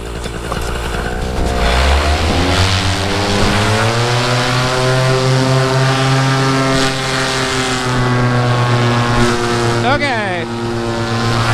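A small airplane climbing out after takeoff, its engine drone loud and steady with rising pitch, heard from inside the cabin, while a voice talks over it.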